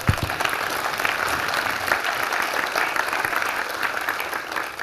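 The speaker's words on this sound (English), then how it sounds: "So one more round of applause for Nicole here" A live audience at a 2016 healthcare innovation academy event applauds after a speech, steady dense clapping filling the room for about five seconds with some crowd noise.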